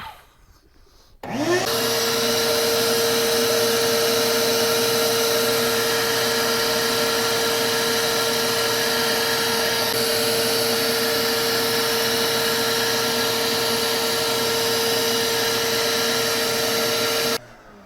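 A shop vacuum runs steadily for about sixteen seconds, cleaning out the intake valves of a Chevy 3.6 V6 after a Sea Foam treatment. It makes a loud, close, constant whine with a strong steady tone, starting abruptly and cutting off near the end.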